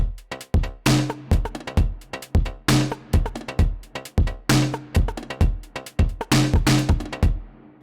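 Dry drum loop from the Sugar Bytes Drum Computer plugin with no granular processing: punchy kicks and crisp snares in a steady repeating groove, loud and up front, no voices.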